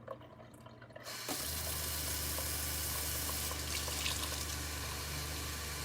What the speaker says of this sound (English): Don't listen to the water. Listen to the pump.